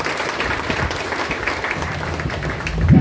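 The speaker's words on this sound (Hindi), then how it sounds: "सामूहिक रूप से आप लोग ताली बजाइए ऑल भाइटर।" Seminar audience applauding together, a dense wash of clapping at steady loudness that swells slightly near the end.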